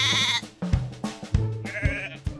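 Sheep bleating in a few loud, wavering calls, close by and alone, with short gaps between the cries.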